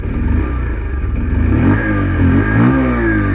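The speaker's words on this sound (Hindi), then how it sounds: "सबसे पहले तो आप एग्जॉस्ट थंब सुन लो" The exhaust of a 2024 Bajaj Pulsar 125 motorcycle, nearby and loud, is revved up and down several times, its rumble rising and falling in pitch over a steady idle, with no talking.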